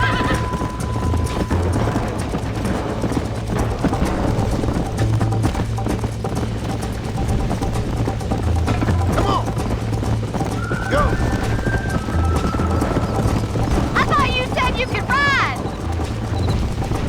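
In the Red Dead Redemption video game, a horse gallops with steady rhythmic clip-clop hoofbeats under a rumbling background, then gives a loud whinnying neigh near the end.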